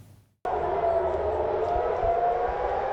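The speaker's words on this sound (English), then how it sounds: "Air raid sirens wailed over central and southern Israel" An air raid siren in Israel starts abruptly and holds a steady, loud wailing tone, droning continuously over a low rumbling background.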